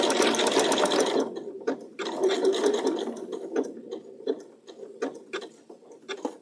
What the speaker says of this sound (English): It is a fun little blanket stitch.